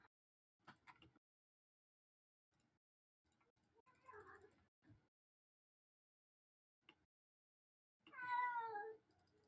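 A cat in a video game gives a few soft meows, the last one louder and drawn out, among faint clicks and quiet pauses.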